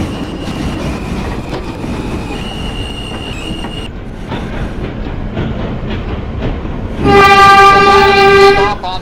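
Subway train on the Myrtle Avenue Line in a Roblox game rumbles steadily along the track with clattering wheels, then a loud, sustained horn blast sounds near the end.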